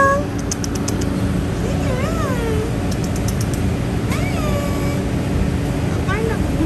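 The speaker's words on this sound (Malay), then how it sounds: "Sebab kat dalam ni ada kucing lagi." A cat meows several times inside a shop in Cameron Highlands, the cries rising and falling in pitch over steady background hum and noise.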